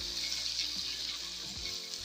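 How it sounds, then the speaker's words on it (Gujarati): Green chillies fry in a pan with turmeric and salt for a Kathiyawadi-style chilli pickle, giving a steady, close sizzle with faint stirring scrapes and no voices. "હવે હળદર અને મીઠું નાખી મરચાંને સરસ રીતના અંદર મિક્સ કરી દઈશું।"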